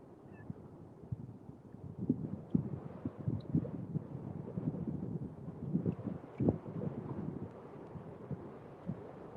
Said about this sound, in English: Like right now, the wind's starting to pick up